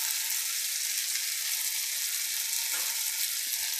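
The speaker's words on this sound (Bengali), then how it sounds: "নুন দিয়ে একটু কষাই করব।" Fish curry masala sizzles steadily in oil in a wok as it is sautéed with salt for a thin Bengali fish curry, a continuous close, bright frying hiss with no talk.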